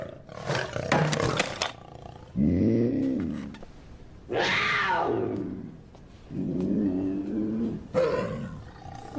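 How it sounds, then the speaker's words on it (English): A puma gives several loud, close roars and snarling growls in separate bursts, each lasting about a second or two, with short pauses between them. "It's a puma."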